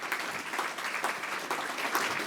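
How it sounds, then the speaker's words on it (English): Steady round of applause from an audience at a summit panel session, dense continuous clapping throughout at moderate level with no speech. "Can we just join and give them a round of applause?"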